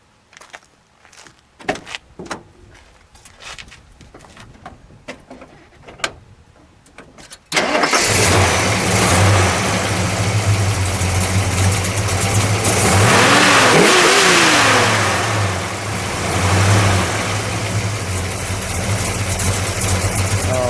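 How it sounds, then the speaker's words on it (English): Soft clicks and rustling, then the 390 V8 engine of a 1970 AMC Rebel The Machine cranks and roars to life, settling into a loud, lumpy idle with a rev partway through. "let's start it. We'll let it idle."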